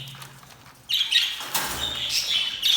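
Busy budgerigar chatter with bright high chirps and twittering, rising louder midway and continuing steadily, close by with some fluttering.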